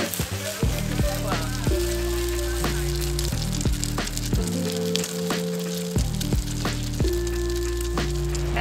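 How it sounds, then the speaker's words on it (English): Fresh gyoza dumplings pan frying at a night street food stall in Hat Yai, Thailand, with a loud, steady sizzle and crackle in front of tonal background music. "fried, pan fried."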